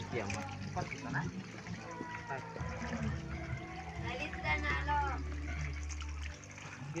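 Freshly harvested radishes are washed in water, with trickling, splashing and swishing sounds under frequent nearby talk and a low hum in the background.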